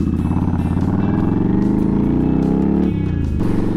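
A Kawasaki Drifter motorcycle on a cold ride with its carburetor not yet warmed up gives a steady, close engine drone that drops in pitch briefly near the end, then settles again.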